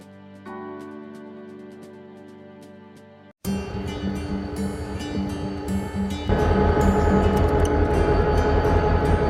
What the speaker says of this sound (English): We are on the Lehigh Gorge Scenic Railway out of Jim Thorpe